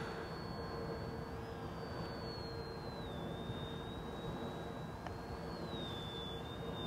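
A ZOHD Dart 250 FPV wing plane landing into the wind, its electric motor giving a steady high whine that drifts slightly in pitch over constant wind rush, with no voices.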